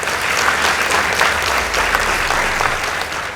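A round of applause for Coast Girls High School at a school competition, dense continuous clapping from a sizable crowd throughout.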